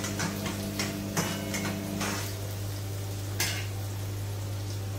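A green chili fries in oil in a pan, a soft continuous sizzle with a few brief crackles and spits over a steady low hum.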